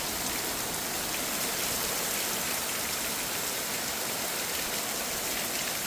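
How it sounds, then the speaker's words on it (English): Steady rain pours down outdoors, a dense, continuous hiss of drops on surfaces that holds loud and even throughout with no voices. "The rain just picked up."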